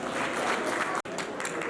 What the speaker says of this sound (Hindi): कृपया पूर्व अध्यक्ष जी का सम्मान जोरदार तालियों से करें